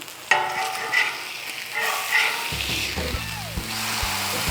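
A burger flipped onto a Blackstone griddle sizzles and spatters steadily, with a sharp clatter at the start as it lands, then continuous frying hiss under a few low scraping and tapping sounds.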